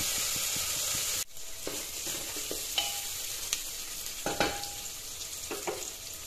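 Ginger, garlic and green chili paste frying in a pan for a chicken curry gives a steady sizzle broken by a sudden drop and then repeated scraping and stirring clicks, close and alone.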